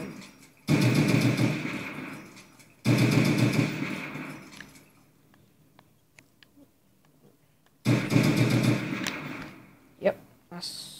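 Rapid-fire gunshots from a video game played with a modded white PS3 rapid-fire controller, in three dense loud bursts separated by quieter gaps with a few isolated clicks.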